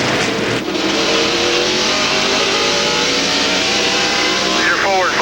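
A NASCAR Craftsman Truck Series truck engine screaming at high revs down a straightaway, a loud sustained race-engine roar with a steady pitch, heard without voices.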